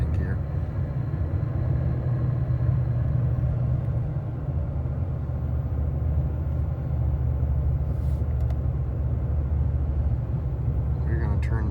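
Car with an MT82 manual gearbox and a Stage 3 setup accelerating in second gear, giving a steady low engine drone throughout under a voice speaking.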